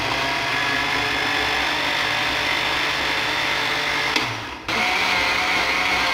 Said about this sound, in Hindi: अब हम इसको अच्छी तरह ब्लेंड करते हैं।